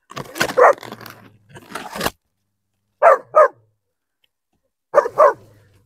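Abandoned puppy barking in short bursts, an opening flurry then two separate double barks spaced apart, fairly close and loud with silence between.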